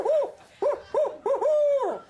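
A person imitates an owl's hoot several times, short rising-falling hoots in a quick series, the last one drawn out, close and fairly loud.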